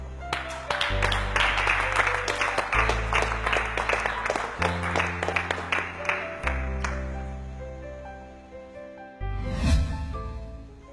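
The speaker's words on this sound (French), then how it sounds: "On l'applaudit." Studio audience claps on a cooking competition show, a bright patter of applause layered over steady background music, thinning out before a short musical swell near the end.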